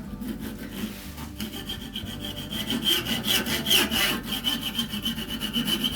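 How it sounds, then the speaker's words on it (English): A fine-toothed hand saw cuts through carved wood in a rapid run of rhythmic rasping back-and-forth strokes, close and clear, with no voices. "I'm gonna use this saw. It's got a little bit finer teeth."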